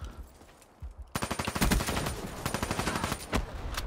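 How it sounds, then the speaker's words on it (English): Rapid bursts of fusion rifle fire in Black Ops 3 erupt after a quiet first second, then pulse in a dense, loud, steady rhythm. "Dude's got the fusion rifle out."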